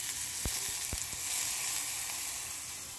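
Meatballs and onions frying in a pan, a steady close hiss of sizzling fat with a few quick utensil clicks near the start.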